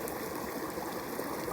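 A clear, natural water stream flows at a trail-side spring among rock formations, giving a steady, close rushing and trickling wash with no talk.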